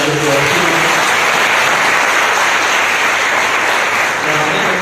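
An audience at a Central Library ceremony in Bhopal gives loud, dense applause, a continuous roar of clapping that holds steady for several seconds.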